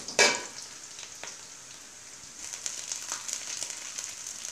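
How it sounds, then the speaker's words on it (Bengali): Onions fry with a few pieces of mace for chicken tehari, a steady close sizzle that swells slightly in the second half, with a sharp clink at the start and no voices. "পেঁয়াজটাকে ভাজবো।"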